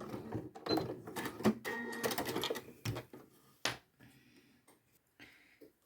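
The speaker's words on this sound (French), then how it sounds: "Et ensuite, tu couds tout le long sur le bord" A sewing machine stitches along the edge of a quilted zipped pouch in quick rattling bursts close up, with short pauses and a few clicks between runs.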